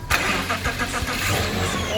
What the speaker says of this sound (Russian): Он так заводит тачку.